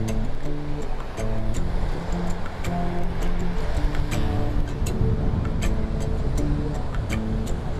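Surf breaks and washes continuously onto a beach on the Great South Coast Walk in New South Wales, a loud, steady roar of waves with no one speaking.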